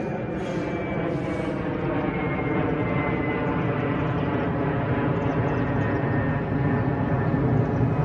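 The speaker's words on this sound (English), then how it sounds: "See those planes going over?" Aircraft passing overhead on an evening walk outdoors, a steady broad engine roar that holds for the whole stretch, fairly loud and continuous with a faint tonal whine running through it.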